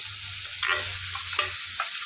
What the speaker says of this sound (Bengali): আলু সেদ্ধটা দিয়ে ভালো করে কষিয়ে নিতে হবে